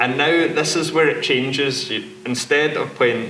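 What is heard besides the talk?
No distinct noise like a dog, phone or traffic.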